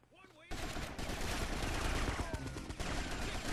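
Gunfire erupts in the PSP game GTA Vice City Stories: loud, dense bursts of rapid automatic shots that crack one after another, mixed with game action noise.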